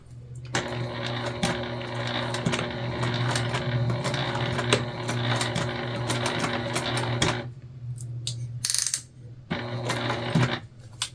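A sewing machine stitching white thread along a gold appliqué letter runs in a steady, fast mechanical clatter with a low motor hum, close and loud, pausing briefly before resuming.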